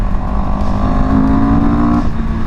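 A CFMOTO CL-X 700 Sport motorcycle accelerating, its engine a loud, close, steady drone that climbs in pitch and then dips briefly near the end, with wind noise and no talk.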